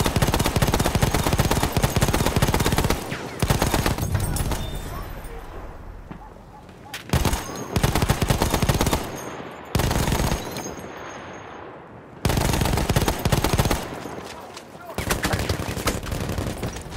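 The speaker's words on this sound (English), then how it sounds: "There's a machine gun. Look out! Machine gun!" Loud machine gun fire in Battlefield 1, long sustained bursts of rapid shots separated by short pauses, dense and close with background battle noise and shouted voices mixed in.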